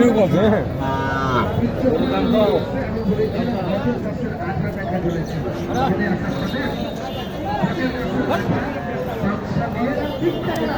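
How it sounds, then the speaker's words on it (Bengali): A Jersey-type cow moos with low calls that are partly buried under dense crowd chatter at a busy cattle market in Naogaon. Other livestock can be heard faintly, and nearby voices talk throughout. "এটা জার্সি ধরনের গরু"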